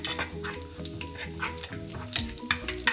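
Tadka of spices and red chili powder sizzling and crackling in hot oil while being stirred, a close, busy fry with scattered pops and no voices.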